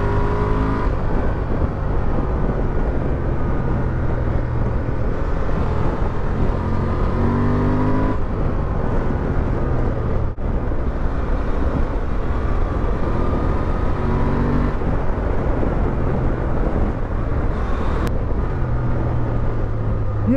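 A Honda Transalp XL750 with a 750 parallel twin engine drones steadily while being ridden, loud and continuous with slight rises in revs and wind rush and no talk over it.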